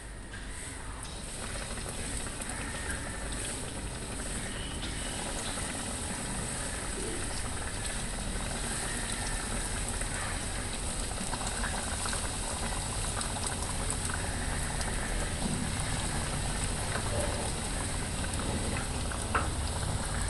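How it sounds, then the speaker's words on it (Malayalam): Beef cutlets sizzle steadily as they fry in hot oil, a dense, continuous crackle and bubbling that holds at an even level throughout, with no voices. "ഇനി നമുക്ക് കട്ട്ലറ്റ് ഓരോന്നായിട്ട് ഇടാം."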